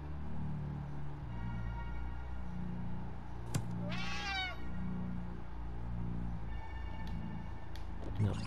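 A cat meows once in the video game Slayaway Camp, a brief rising-falling cry midway through over a steady low game soundtrack, with no talk.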